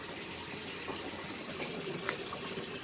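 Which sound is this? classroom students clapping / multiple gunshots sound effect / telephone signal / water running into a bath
water running into a bath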